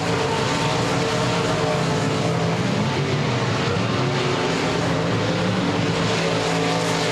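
USRA Limited Modified race cars roaring around a speedway oval during a heat race, a loud continuous wall of engine noise from several cars.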